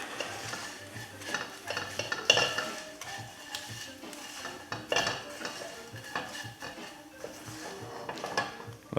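Tofu mixed with ground rice is stirred in a pan with a utensil: irregular scraping and clinking against the metal, a faint sizzle underneath, close and fairly quiet.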